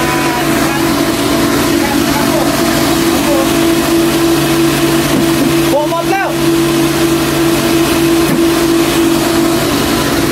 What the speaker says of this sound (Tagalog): Ito yung ating 380 na motor.